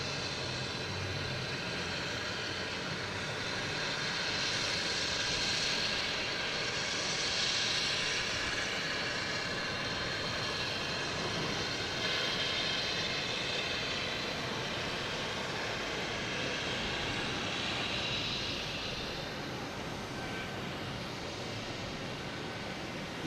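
JetBlue Airbus A220 jet taking off at Boston Logan airport, a steady broad engine roar that holds for over twenty minutes' worth of seconds, swelling slightly midway, heard from a distance outdoors with no talk.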